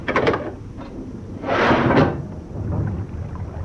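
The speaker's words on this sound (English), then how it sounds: "Can we risk opening the watertight door?" A heavy watertight door aboard a wartime tanker swings open with a broad, rushing scrape and clank lasting about half a second, set apart from fainter knocks before it and a low rumbling hush after.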